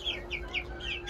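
Young Indian-breed turkey chicks in a backyard poultry coop give a few short, high clucking peeps close by, over steady low farmyard background noise.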